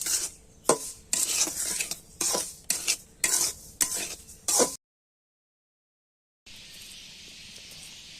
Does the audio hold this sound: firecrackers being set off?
no